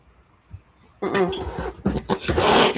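A dog close by whimpers and growls in a burst of whines, throaty rumbles and breathy noises that starts suddenly after a quiet moment. The sound is loud and agitated, in a home with a cat nearby.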